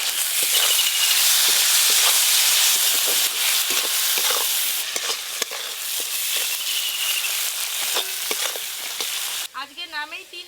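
Spices with chopped tomato, turmeric, chili powder, green chili and salt fry hard for egg curry, a loud continuous sizzle with stirring scrapes throughout, ending in a brief burst of bird-like chirps.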